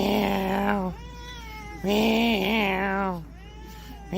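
A person imitates a cat, voicing a string of drawn-out, wavering meows one after another, loud and close with no other sound around them.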